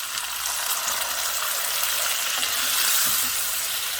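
Water poured into a hot pan of chili beef with tomato sauce sets off a loud, steady sizzle and bubbling hiss, close up and continuous, with no speech over it.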